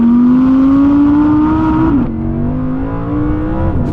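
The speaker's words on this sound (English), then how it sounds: "here's a quick montage of some Audi R8 V10 rear-wheel drive noises" Audi R8 V10 rear-wheel drive engine revving loudly up to a high pitch, then dropping off sharply on a gearshift before climbing again, close and without talk.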